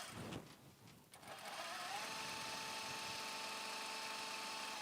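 A sewing machine starts after a short pause and then runs at a steady, even speed, a loud continuous whirring hum close by that holds unbroken to the end.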